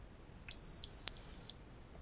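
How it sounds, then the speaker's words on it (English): An MSA portable gas detector gives a short series of high, piercing electronic beeps as it powers on, clear and close in an otherwise quiet room. "It'll give you a couple beeps,"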